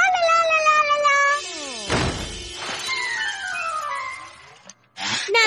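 Mr. Cat, the cartoon cat from Kid vs Kat, lets out drawn-out, wavering meows and yowls, loud and close, broken by a dull thunk and a brief pause before another cry.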